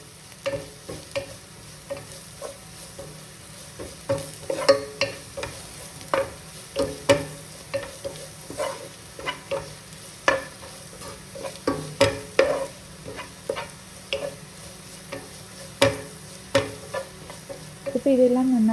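Ginger garlic paste sizzles and fries in a pan while a utensil stirs it steadily, with repeated scraping strokes in an irregular rhythm over a continuous close frying hiss for chicken curry.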